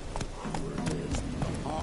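Roach, the horse in The Witcher 3, pounds along at a gallop, a steady run of quick hoof clops on the ground under a dense bed of game sound, with a voice talking over part of it.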